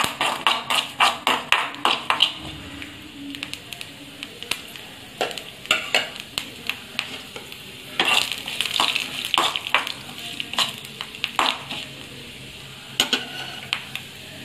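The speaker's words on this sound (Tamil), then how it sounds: "அரிசி நல்லா பொரியணும்" Rice grains fry in a pan over a medium flame, a soft hiss broken by rapid, rhythmic scraping and tapping as a utensil stirs them, close and fairly loud.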